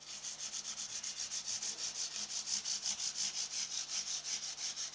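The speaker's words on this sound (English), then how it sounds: "I'm just going to use a piece of sandpaper and just go over the frets just to clean them up, just lightly." Sandpaper rubbed lightly back and forth over the frets of an acoustic guitar, a quick, even rasping rhythm of short strokes, close and steady with no talking.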